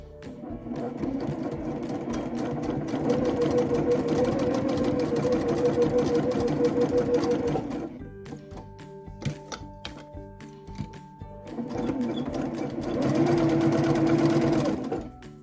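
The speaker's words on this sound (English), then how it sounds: "let's take it to the sewing machine" A sewing machine runs in two long bursts of rapid mechanical stitching, pausing in between for a few seconds of quieter clicks and handling.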